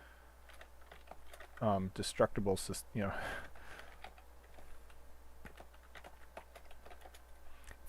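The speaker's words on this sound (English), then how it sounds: "I'm getting much better at typing" Fast keyboard typing during a live game-development stream, a steady patter of small clicks running throughout, briefly under a man's speech near the start and then heard alone.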